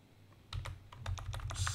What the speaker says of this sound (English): I have to type in the option properly, and then it works.